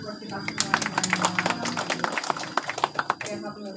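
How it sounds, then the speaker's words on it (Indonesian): An audience at a museum guide training session claps, a dense, brisk patter of many hands at moderate distance, lasting a few seconds with voices mixed in. "Tepuk tangan buat kita semuanya."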